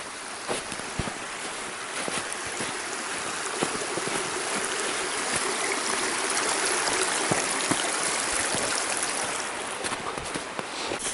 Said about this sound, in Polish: Tu trzeba przejść przez strumień.